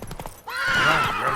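Roach, Geralt's horse in The Witcher 3, lets out a short close whinny after a few quick hoof knocks, all within about a second and a half.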